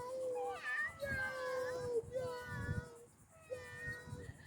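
A voice imitates a cat's meow for a child during animal-sound play. Several drawn-out, wavering meows rise and fall in pitch, close and fairly clear over a faint hum in the room.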